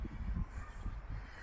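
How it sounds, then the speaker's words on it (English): Crows caw in a forest over a steady low rumble of wind and movement, their calls fairly faint and close together with no talking. "the sounds of the birds"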